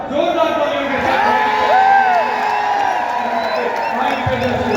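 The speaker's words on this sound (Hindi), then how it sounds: "जोरदार तालियों के साथ" A rally crowd at a Haryana Congress gathering in Julana, Jind, cheers, whoops and shouts in a dense, continuous roar of many voices, loud and close throughout.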